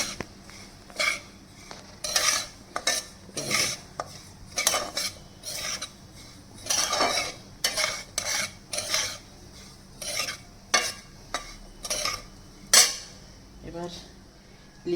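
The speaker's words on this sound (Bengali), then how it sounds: "নাড়াচাড়া করে দেখো ঘিটা মিশিয়ে নিই" Ghee being stirred into a mixture in a pan for gulab jamun, with repeated scraping and clinking of a utensil against the metal in irregular bursts, close and moderately loud, with no talk.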